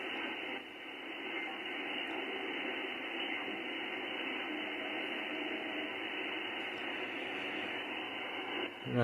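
An HF amateur-band radio receiver puts out a steady, band-limited hiss of interference noise at about S4, flat and unbroken with no voices.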